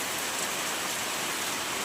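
Steady, dense downpour of heavy rain, a constant broadband hiss with no pauses and no voices.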